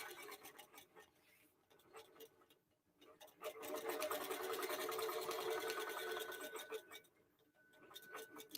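A QBOT V3 quilting machine stitches line quilting on a mini tote, its steady mechanical whir rising and holding for several seconds before easing off, with fainter ticking passages at the start and end.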